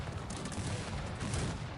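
Grapeshot cannon fire in the battle game Cossacks 3 comes as a dense, continuous crackle of many distant shots, a steady rattling barrage without any speech.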